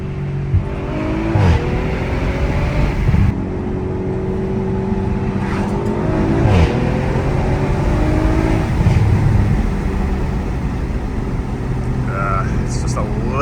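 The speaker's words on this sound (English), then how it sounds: "the acceleration, the feelings, the pushback" A 500+ HP Audi RS5 accelerating hard on a forest road, its engine droning and rising steadily with gear-change steps, loud and continuous with talking over it.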